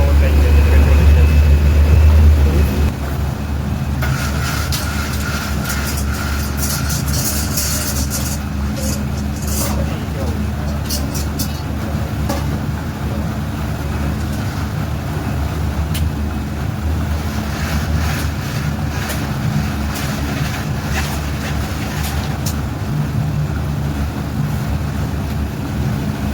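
A houseboat's 100-horsepower petrol engines running off Dubai, a steady low drone throughout with a louder rumble at the start, while someone talks over it.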